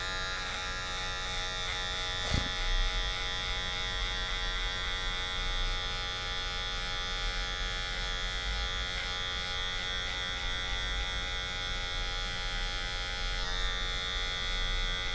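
A steady, close electric hair clipper buzzes without pause while a barber grades a mid fade from the number 1 guard downward, one faint tap early on and no talking over the constant whine.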